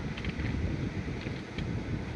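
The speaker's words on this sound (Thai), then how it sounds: "ลมพัดอยู่ทึ่นๆอยู่" Wind blows outdoors during an open-air fish meal, a steady low rumbling roar buffeting the microphone throughout with no talking.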